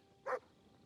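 A single short dog bark rings out in the medieval video game Kingdom Come: Deliverance II, a brief clear burst over quiet ambient background.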